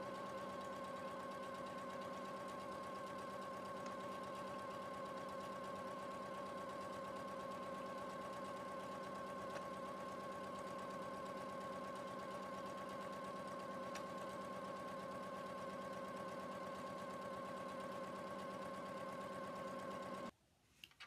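A sewing machine runs in one steady, unbroken stretch while stitching a seam along fabric panels, a constant whirring hum that stops abruptly near the end with a couple of small clicks.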